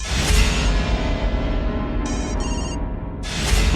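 A loud electronic phone ringtone plays close by, a repeating melodic tone with a brief dip before it swells again.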